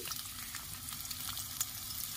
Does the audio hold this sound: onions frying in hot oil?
yes